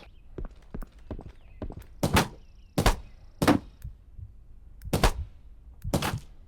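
Gunfire in a video game still in development, heard as a string of sharp, isolated shots spaced irregularly over several seconds, with quieter thuds between them and no talk.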